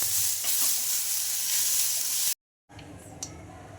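Tomatoes and mint sizzle loudly and evenly while being stirred in a pan, then the sound cuts out abruptly and returns as a quieter frying hiss with a soft clink.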